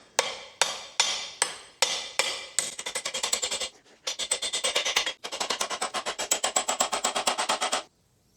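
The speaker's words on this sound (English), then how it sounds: "I can go ahead and just put the roll pins in." Roll pins being hammered into an excavator quick coupler: about six slow, ringing metal blows, then fast runs of rapid strikes with a short pause between them. Loud and close, with no talking.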